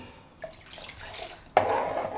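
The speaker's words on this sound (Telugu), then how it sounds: "ఇప్పుడైతే ఇంకొంచెం వాటర్ అనేది వేసుకుందాం" Water pours into a pressure-cooker pot of Karnataka-style field bean curry already seasoned with salt: a soft trickle at first, then a louder, steady splashing pour from about midway to the end.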